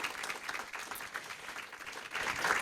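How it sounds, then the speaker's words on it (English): An audience applauds for a steady round of clapping, fairly distant and even in level, rising slightly at the end, with no voices over it. "let's give them a round of applause"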